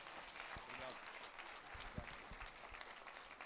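A church congregation applauds faintly for their pastor. The brief spatter of claps is mixed with murmuring voices.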